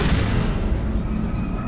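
Enemy explosions in the video game Mass Effect, a dense rumbling blast that fills the whole clip with loud, continuous booming and no talking.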